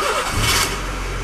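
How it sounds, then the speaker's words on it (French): A Honda Civic EJ9 with a flex-fuel bioethanol setup cranks and catches, a brief loud engine start rising into a steady low idle close by. "Voilà, ça démarre."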